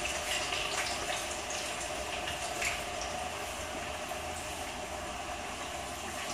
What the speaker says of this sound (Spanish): Y vamos a freír las patatas por tandas.